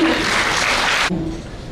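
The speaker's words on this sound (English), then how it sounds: "A big round of applause for Mrs. R.D." A burst of clapping from a conference audience that cuts off abruptly after about a second, leaving a quiet room.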